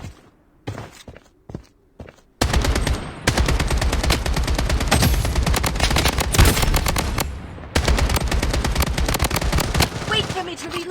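Rapid, loud AK47 automatic fire in the shooter game BloodStrike rattles almost continuously after a few opening single shots, with brief breaks for reloading and in-game voice callouts mixed in.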